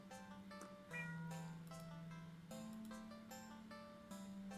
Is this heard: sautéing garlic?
no